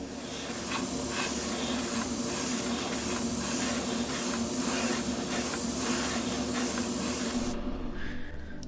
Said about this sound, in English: I'm gonna get it in the gun and put a coat down on this